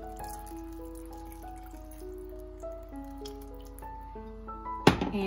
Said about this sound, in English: And 2 cups of water. Hot water I'm putting here to start with.